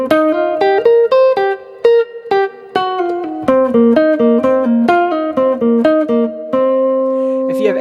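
A rock guitar line over a rock vamp in C, ending on a pickup phrase, heard as a steady run of plucked single notes with a few sustained ones, loud and close, with no talking.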